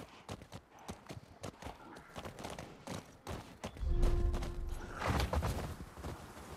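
Horse hooves clip-clop in a steady walking rhythm, fairly close, over a low rumbling background, in the video game The Last of Us Part II Remastered, with the horses out in the cold.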